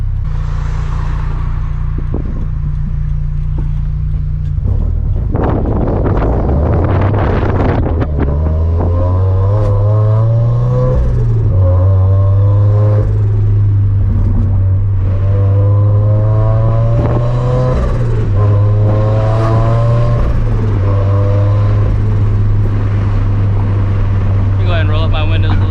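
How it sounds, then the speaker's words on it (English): A turbocharged FRS with a loud exhaust setup drives hard, the engine droning and rising in pitch through repeated gear pulls amid wind buffeting inside the cabin. "Exhaust setup is loud as hell."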